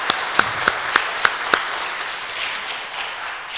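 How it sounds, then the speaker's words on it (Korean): A church congregation applauds its choir, a dense, steady wash of many hands clapping throughout, with a few sharper individual claps standing out early on. "격려의 의미로 박수 한번 합시다"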